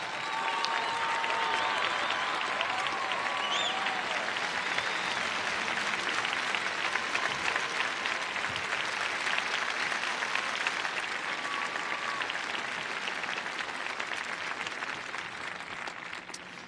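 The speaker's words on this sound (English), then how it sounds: "let's give a huge standing ovation for our black shirts" Sustained applause from a large audience giving a standing ovation to a high school marching band, steady and dense for the whole stretch, slowly easing toward the end.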